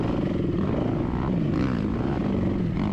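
Dirt bike engines droning at high revs during a hare and hound off-road race: a loud, continuous buzzing engine note with slight pitch wavers, close up and steady, with no talk.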